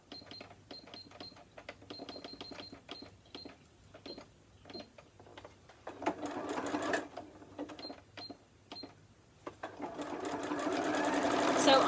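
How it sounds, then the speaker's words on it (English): A sewing machine stitches a close zigzag satin stitch for a star place mat, running in short rapid bursts with pauses, then settling into a longer continuous whirring run; a voice talks intermittently over it. "So on my machine, what I've done is I've selected the zigzag stitch."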